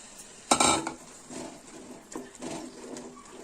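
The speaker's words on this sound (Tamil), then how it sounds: "இதையும் நல்லா கலந்து விடுங்க" Chicken kurma ingredients with mint leaves are mixed in a pan, a loud metal scrape and clatter of a spoon against the vessel followed by softer stirring knocks, close and without talk.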